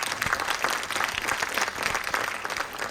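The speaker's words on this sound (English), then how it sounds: "give another round of applause for Caleb Whitcomb" An audience applauds at an astronomy slam in a university planetarium, dense steady clapping filling the room throughout without a break.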